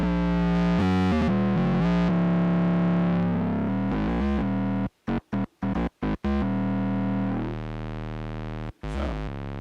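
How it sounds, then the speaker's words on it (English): Heavily distorted Roland SE-02 synthesizer tone, distortion fed into the mixer stage, buzzy and saturated, holding a sustained drone that cuts out in several abrupt rhythmic gaps midway before resuming. "So we've got some type of distortion right into the mixer stage."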